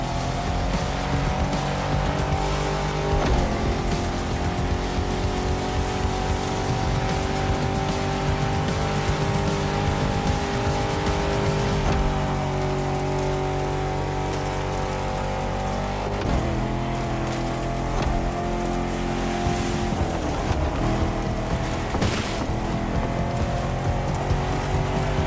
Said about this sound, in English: If you end up in the mud, don't panic. The Rubicon's traction and huge 33-inch tires are the best safety insurance you can get.